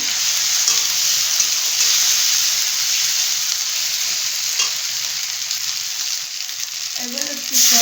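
Four or five green chillies fry with spices in a pan, giving a loud, steady sizzle and hiss up close while a spoon stirs now and then.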